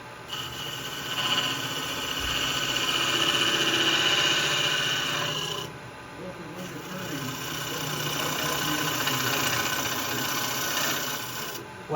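A segmented bowl spins on a wood lathe, giving a continuous loud rasping scrape and hiss with a thin high squeal, easing briefly midway and then resuming steadily.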